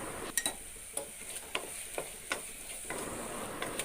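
Curd being sautéed and stirred in a pan for vegetable biryani, a soft steady sizzle broken by sharp scraping strokes of a spoon roughly every half second, close and fairly quiet with no talking.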